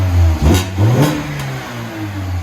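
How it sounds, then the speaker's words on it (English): 2004 Mini Cooper on its stock exhaust revs in two quick, loud blips that rise and drop back to a buzzing idle, close up with no voices. "All right, go ahead and rev it."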